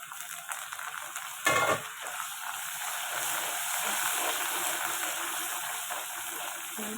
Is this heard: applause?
no